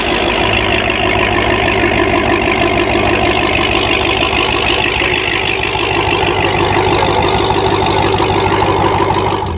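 A Dodge Charger Hellcat Redeye, a 970-plus horsepower car, idles at the drag strip starting line with a loud, steady, rumbling burble that holds unbroken throughout.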